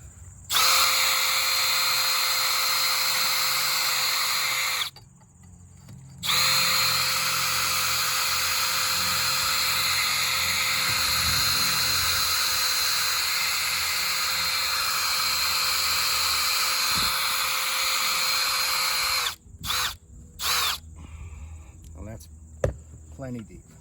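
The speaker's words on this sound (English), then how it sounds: "I'm going to drill this hole" A power drill runs steadily for long stretches as it bores a hole in deck fascia, with a brief pause partway through and a few short bursts at the end, loud and close.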